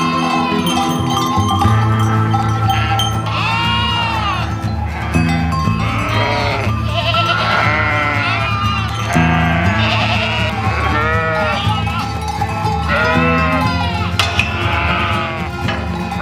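Sheep and goats bleat over and over in a pen on a Spanish farm, many overlapping calls near and far, loud and continuous, with a faint bell clinking underneath.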